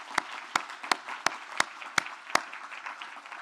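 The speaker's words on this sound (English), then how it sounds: "and a round of applause." Applause from a conference audience at a policy session: one close pair of hands claps a sharp, steady beat about three times a second over a softer wash of crowd clapping.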